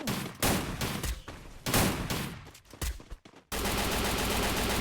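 Rapid gunfire in the Free Fire battle royale game, with bursts of automatic shots in several clusters separated by short gaps, ending in a sustained dense volley; loud and close, with no talking.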